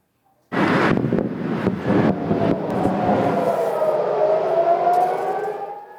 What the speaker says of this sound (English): the sound of sirens and several airstrikes could be heard across the city